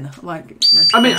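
A smoke alarm goes off loud and close, its steady high-pitched tone cutting in partway through and running to the end over people talking.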